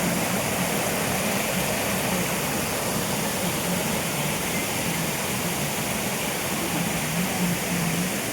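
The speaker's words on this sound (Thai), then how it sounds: "นี่ค่ะอันนี้ก็จะมีน้ำตก" A waterfall in a shaded park area with a walkway leading to it, heard as a steady broadband rush of falling water, constant and fairly distant with no voices.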